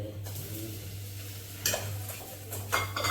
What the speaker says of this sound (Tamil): அதுலேயே நெய்யை வறுத்துக்கலாம். சரியா? இது ரவையை வறுத்துக்கலாம்.